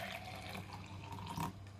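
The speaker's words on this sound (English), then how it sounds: "you take a glass and pour it inside" Cooled groundnut water poured into a glass, a faint, quiet trickle of liquid running steadily for a couple of seconds with a small splash near the end.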